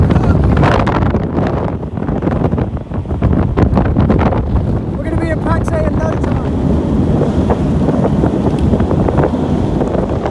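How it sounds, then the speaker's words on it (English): Loud, gusting wind buffets the microphone throughout, roaring over engine rumble while a voice speaks briefly partway through, recorded riding in the open back of a fast-moving truck. "It's very windy in the back of this thing."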